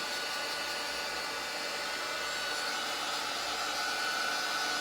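A hair dryer blows steadily on a thin coat of paint over small, thin pieces of wood. It makes a loud, constant, close-up whoosh that holds unbroken for several seconds.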